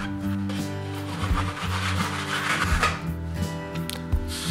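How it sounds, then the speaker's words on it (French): Rhythmic rasping strokes of a hand saw cutting a wooden side strip for a baritone guitar, steady back-and-forth pulls close by, with no talking. "et je le scie."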